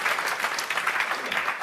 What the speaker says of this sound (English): I think a round of applause there